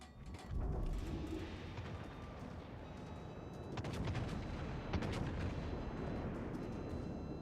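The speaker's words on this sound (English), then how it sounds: "I hear fireworks outside." Fireworks booming outside, a dense rumbling stream of repeated blasts and crackles that swells around the middle and continues steadily, fairly distant and muffled, with no talking.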